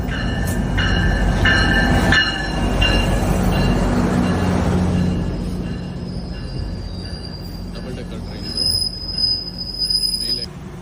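A train pulling into a Toronto railway station, with loud, high metallic wheel squeal and rumbling railcars close by, the squeal persisting as the train slows; faint voices in the background.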